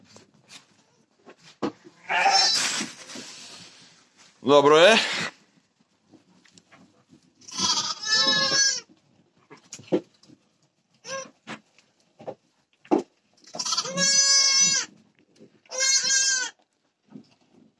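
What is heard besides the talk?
sheep bleating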